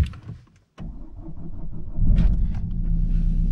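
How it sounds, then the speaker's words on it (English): Peugeot 508 with a semi-automatic gearbox fault starting up: brief quiet, then the starter catches and the engine settles into a steady, close idle rumble. "Now we're gonna start a car."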